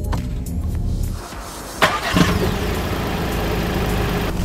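A 2018 Volkswagen T-Roc compact SUV starts up, a brief crank and catch rising from the cabin, then settles into a steady, close engine idle that runs evenly to the end with no talking.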